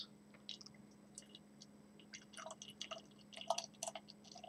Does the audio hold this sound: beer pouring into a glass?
yes